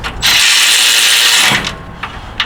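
A Milwaukee 3/8-inch electric ratchet runs bolts down during a 6T70 transmission installation, giving a loud, steady mechanical whir for about a second and a half, then a few short clicks as it stops.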